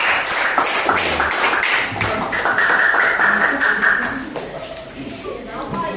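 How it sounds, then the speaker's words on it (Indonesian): A classroom group claps for student presenters, a burst of dense, quick handclaps that gradually thins out and fades near the end, with voices in the background. "tepuk tangan buat kelompok 5"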